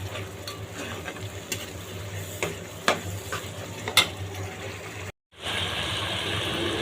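Spice masala for mutton curry is stirred and fried in a pan: steady sizzle under repeated spatula scrapes, a brief drop to silence, then a louder, continuous hiss.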